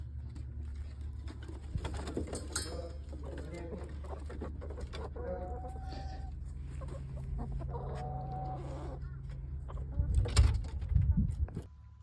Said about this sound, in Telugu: ఈ కోడి డోర్ మీద నాక్ చేస్తుండే, మొత్తం గ్యాంగ్ని తీసుకొని వచ్చింది